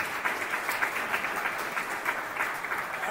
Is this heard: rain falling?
no